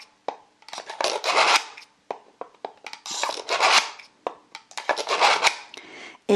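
Repeated metallic scraping strokes as sewing scissors are drawn through a small scissor sharpener, several quick rasping passes close up, with short pauses between them.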